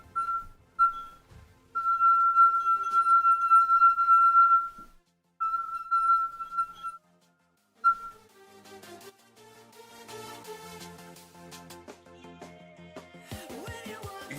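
A glass rung by rubbing or striking, giving several sustained pure ringing tones in short bursts, then a busier stretch of clinks and handling noises, close and fairly quiet with no speech.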